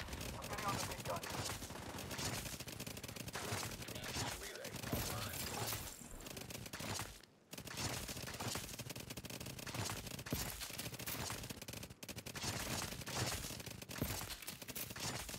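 Heavy machine gun fire in the shooter game The Division 2 rattles in continuous dense bursts for the whole stretch, loud and close, broken only by a brief gap.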